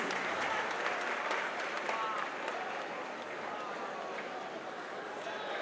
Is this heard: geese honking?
no